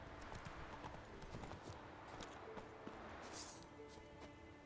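Horse hooves clip-clopping at a gallop in The Witcher 3, a rapid, steady hoofbeat rhythm that stays faint and distant in a quiet game mix, with no talking.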